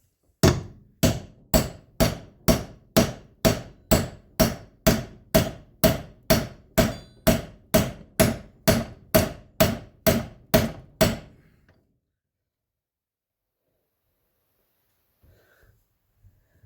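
A hammer pounds a socket to drive out a wheel bearing on a 2012 Polaris Sportsman 850 ATV, about twenty evenly spaced, loud metallic blows in a steady rhythm, then silence.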